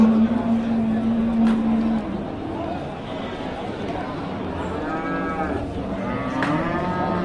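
A cow lets out a long, loud moo at the start, with a shorter moo later, amid chatter and background vehicle noise at a heifer market.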